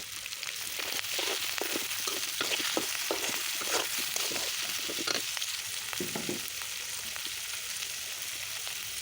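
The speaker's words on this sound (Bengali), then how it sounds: "সুন্দর করে এখন একটু ভাজা ভাজা করে নেব চিংড়িটা মশলার সঙ্গে" Shrimp fries with salt, turmeric and other spices in a pan: a constant hissing sizzle broken by repeated close scraping and stirring strokes of a spatula.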